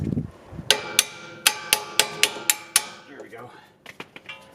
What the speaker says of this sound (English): And use your hammer.